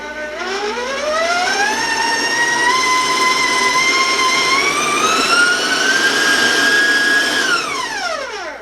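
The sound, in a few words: electric mixer on high mixing raisins into cake batter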